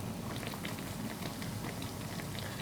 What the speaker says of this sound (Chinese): 全程中火慢炸，不停的翻面。